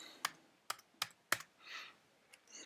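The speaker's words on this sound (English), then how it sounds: "I'll put my cap lock on and type Illustrator" Quick typing on a computer keyboard with caps lock on: four sharp, close keystrokes in an uneven rhythm, then a soft brushing sound and a couple of lighter clicks, with no voices.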